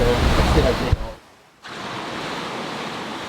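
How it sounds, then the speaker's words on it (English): Ocean waves while sailing in rough conditions: a loud rushing wash of water and wind noise, a brief near-silent dip, then the steady roar returns. "Some serious waves."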